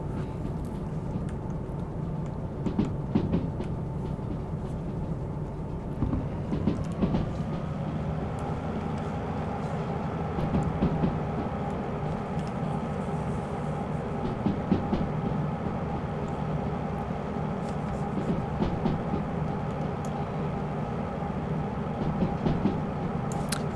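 Steady rolling rumble of a mixed freight train in Derail Valley, with rhythmic wheel clicks over rail joints and a low engine drone that shifts pitch as speed settles just under 50, continuous and close throughout.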